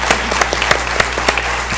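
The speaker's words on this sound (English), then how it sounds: "Clap it up." Applause rises at a school board business meeting, with sharp individual claps standing out over a softer spread of hands and a steady low hum in the room. The claps are fairly close and loud, with nobody speaking over them.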